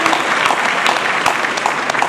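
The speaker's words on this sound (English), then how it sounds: "Give yourselves a round of applause." An audience at a morning forum claps for itself in a steady, full round of applause, with a few sharper individual claps standing out near the front, and no voices over it.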